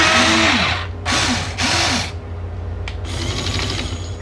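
A Huina 1594 RC excavator's small motorised jackhammer attachment buzzes in several short whirring bursts, with rapid mechanical chattering from the toy's motor, close up and loud, with no voices.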